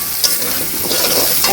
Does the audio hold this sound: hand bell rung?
no